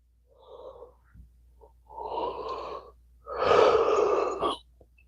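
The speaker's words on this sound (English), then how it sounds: "I don't know why I'm yawning." A person yawns, a breathy vocal exhalation that swells in two stages and grows louder on the second, long drawn-out breath, close and alone in a quiet room.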